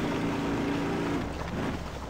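A 1997 Toyota RAV4 four-cylinder engine with cracked headers in the Spintires driving game, a continuous rough, droning exhaust rumble that dips slightly near the end.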